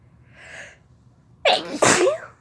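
A single sharp, loud sneeze, one of a series of sneezing fits set off by chhinkni, preceded by a faint breathy intake and heard close up.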